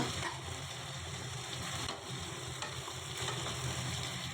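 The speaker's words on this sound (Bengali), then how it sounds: "সব কিছু দিয়ে ভালো করে নাড়াচাড়া করে নিলাম" Marinated chicken with onion and ground spices sizzles and fries in a pan while being stirred, a steady crackling hiss with faint scraping strokes, at moderate level and without talk.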